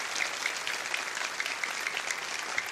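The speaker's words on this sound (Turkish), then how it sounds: "Daha güçlü bir şekilde alkışlarımızı ona gönderin." A TV studio audience claps after a folk music performance, a brief burst of dense, fairly soft applause that stays even, with no voices over it.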